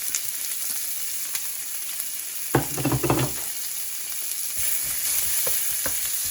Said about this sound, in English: Pan's nice and hot. We're just gonna add our onions, garlic, and ginger.